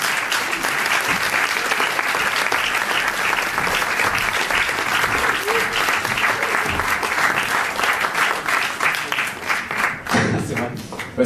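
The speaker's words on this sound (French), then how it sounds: "on peut encore une fois les applaudir bien fort" An audience at a film premiere claps warmly in a long, dense, steady round of applause that fades out near the end.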